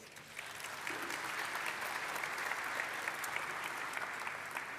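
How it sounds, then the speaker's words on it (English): Quiet, distant applause from a conference audience greeting the host on stage, swelling after the first second and holding steady as a dense patter. "Please give her a round of applause"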